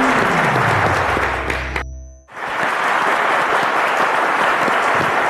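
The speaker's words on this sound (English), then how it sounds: "A round of applause, ladies and gentlemen." A studio audience at a Cowbellpedia quiz show claps loudly, dense applause that cuts out briefly under a descending tone and a sharp break, then resumes just as full and steady.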